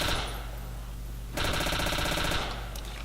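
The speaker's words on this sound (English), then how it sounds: "I like this pistol." Pistol fire in Call of Duty: World at War, a fast rattling run of rapid shots starting partway through and lasting about a second over a steady low background hum.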